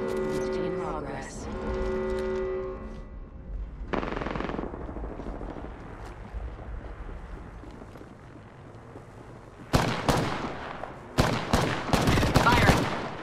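Apex Legends gunfire, rapid machine-gun bursts and sharp shots that get louder and more frequent toward the end, mixed with game sounds and speaking voices.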